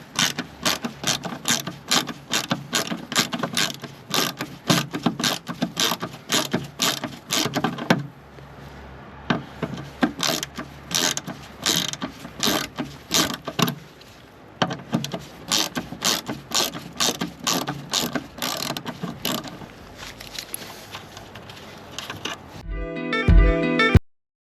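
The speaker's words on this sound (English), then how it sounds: "It's about taking the top bolts off the wing." A ratchet undoing the top bolts on the wing of a crash-damaged MK1 Audi TT, with long runs of rapid ticking clicks broken by short pauses, close and clear, ending in a louder clatter.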